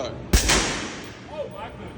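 One suppressed rifle shot from a 300 Blackout fired through a Rugged Razor 762 suppressor, a single sharp muffled crack close by, followed by a brief rumble and faint voices.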